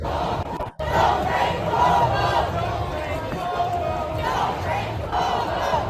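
A large crowd at the No Kings protest in New York City, a dense, loud wall of chanting and cheering voices that carries steadily throughout, with one brief dropout near the start.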